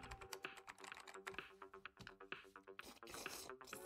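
Rapid, uneven keystrokes clatter on an old Mac computer keyboard inside the video game Narita Boy, set in early-80s style, with dense close-up clicking and brief pauses between bursts.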